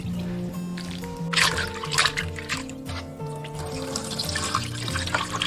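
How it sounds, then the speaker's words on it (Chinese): Salted white radish being rinsed in clean water in a kitchen: a steady trickle and splash of running water with brief louder sloshing bursts, fairly close, while a soft musical tone sounds underneath. "然后再用清水给它多清洗几遍"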